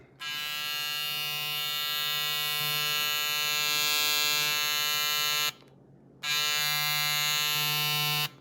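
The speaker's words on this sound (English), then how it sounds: "Now the 22 Stinger has a magnetic motor. Totally different technology. Listen to this thing." A 4MAS Caliber .22 Stinger hair trimmer with a magnetic motor runs with a loud, steady, high buzzing drone, cuts off briefly, then starts again and keeps buzzing close by.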